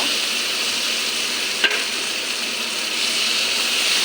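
Fried potatoes and cauliflower are stirred in spiced oil, giving a steady, even sizzle throughout with one sharp clink partway through.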